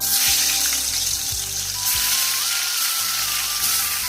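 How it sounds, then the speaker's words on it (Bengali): Fish fries in oil that was already used for frying teasel gourd. A strong sizzle fills the clip alongside a thin, steady whining tone and a few soft low thumps, with no speech. "মাছটা ভেজে নেবো।"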